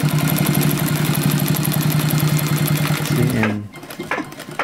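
Sewing machine stitching a jeans back pocket, a fast steady mechanical buzz that runs for about three seconds, then slows and stops, followed by brief clicks and a couple of spoken words.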